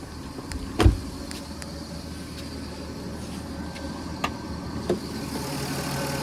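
A 1993 Dodge Intrepid ES engine idles with the hood open, a steady low hum under a few sharp clicks and knocks, heard close and fairly quiet.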